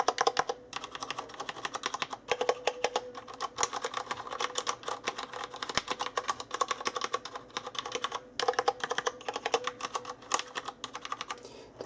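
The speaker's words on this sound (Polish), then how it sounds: "To już wiemy, że klawiatury mechaniczne do najcichszych nie należą." Rapid, continuous clacking of Tesoro Colada mechanical keyboard keys, loud and close, with uneven bursts of keystrokes and no talking.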